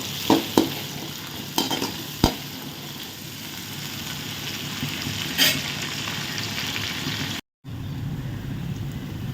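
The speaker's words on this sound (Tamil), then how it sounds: "ஒரு நூறு கிராம் சின்ன வெங்காயம் ரெண்டு பச்சை மிளகாய் கருவேப்பிலையை நல்லா கட் பண்ணி போட்டுருங்க வெங்காயம் வந்து நல்லா கோல்டன் ஆகும் வரைக்கும் வதங்கட்டும்" Small shallots, green chillies and curry leaves sautéing in a pan for a green gram curry: a steady close sizzle with several sharp stirring clatters early on and a brief cut to silence near the end, no talking.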